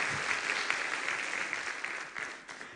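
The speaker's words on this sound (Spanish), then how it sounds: "¿Damos un aplauso a la Biblia por la belleza que contiene?" A church congregation breaks into dense, close applause that holds steadily for a few seconds and then begins to thin.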